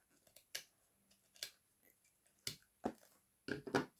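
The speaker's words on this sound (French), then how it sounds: "On coupe juste le fil." Small scissors snipping the binding thread of a handmade junk journal booklet, a series of sharp, quiet clicks and snips spaced irregularly in a quiet room, close to the microphone.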